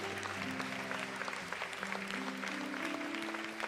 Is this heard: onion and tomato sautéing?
no